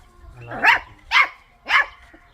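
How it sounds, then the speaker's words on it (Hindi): Farm guard dogs bark at newcomers: three loud, evenly spaced barks, close by, with little else around them. "अभी देखिए, हमें देखा नए बंदे हैं ना, तो भौंक रहे हैं।"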